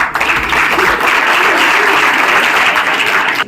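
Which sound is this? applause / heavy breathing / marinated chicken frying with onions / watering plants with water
applause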